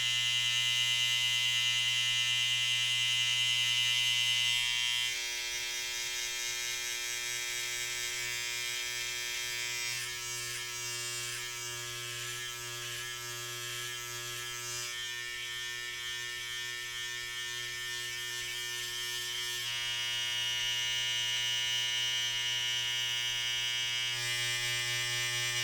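An inexpensive hair clipper fitted with a half guard, lever closed, buzzes steadily and loudly through a self-haircut. The drone shifts slightly in tone as it moves across the head, with no speech.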